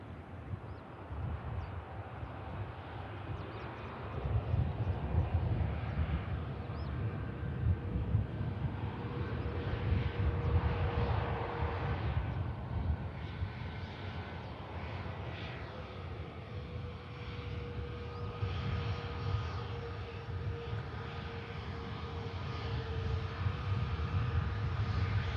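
An EasyJet airliner rolls out after touchdown at Manchester Airport, its engines making a steady low roar with broad rushing noise and some wind buffeting at the microphone, holding at an even level throughout.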